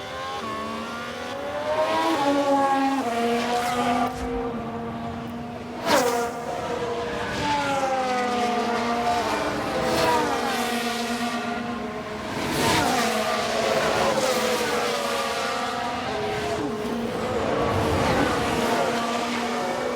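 Formula One cars racing in the management game F1 Manager 2022, including a spin-out, with high engines wailing and shifting pitch as they accelerate and pass, plus a sharp bang along the way, continuous and fairly loud.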